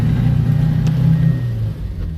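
An early Fiat 600's small engine hums and rises in pitch as it accelerates, a close, steady mechanical drone that eases off toward the end.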